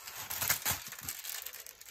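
Clear plastic cover from a diamond painting kit crinkles and rustles as it is handled and turned around, with close, uneven crackling bursts that rise and fall throughout.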